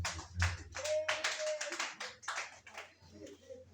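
A church congregation applauding the Lord during a worship service, irregular clapping hands rising and falling for a few seconds, with some faint voices mixed in.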